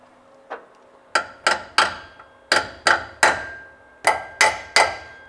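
Sharp metallic hammer taps on an alternator in the engine bay of a square-body truck, struck in quick groups of two and three with short pauses between, close and loud in an otherwise quiet space.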